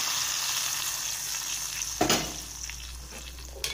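Fried tempering tips into tomato rasam with a steady, hissing sizzle, and a brief sharper burst of crackle follows as it hits the liquid.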